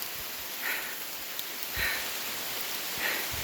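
Heavy rain falls steadily on a wooded canopy in an autumn forest, a continuous soft broadband patter with a few brief louder gusts of dripping, no voices.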